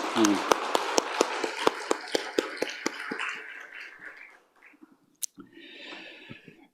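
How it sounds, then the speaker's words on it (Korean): A church congregation at a Sunday service applauds the choir: rapid hand claps roll loudly for several seconds, then thin out and fade, and a voice speaks afterward. "다시 한번 큰 박수로 감사하겠습니다"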